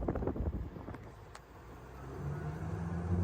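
A 2025 VIBE EV Flex 6 electric street-legal golf cart rides along while wind rushes steadily over the microphone, with a low, smooth hum that grows a little louder toward the end and no voices.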